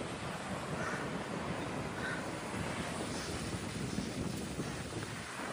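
On a windy beach in Santa Maria, Cuba, a steady, dense roar of wind and surf buffets the microphone continuously, with no talk.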